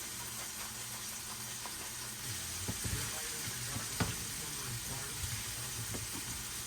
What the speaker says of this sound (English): So I want to cook this in this oil with some of the seasoning